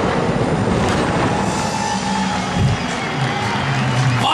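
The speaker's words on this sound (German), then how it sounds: "Ordentlichen Applaus." A crowd applauds and cheers at a drift event, a dense and continuous roar of clapping mixed with engine noise that stays loud throughout.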